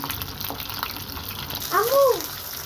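Rohu fish pieces frying in oil in a pan, a steady broadband crackle and hiss that fills the whole clip, with a brief louder tonal sweep near the end.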